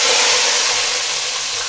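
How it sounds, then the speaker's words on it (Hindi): Green chilies frying for a tadka in a pan for dhaba-style urad (maash) dal, a steady bright sizzling hiss that stays loud and even throughout. "बस 1 से 2 मिनट तक इसको फ्राई करेंगे।"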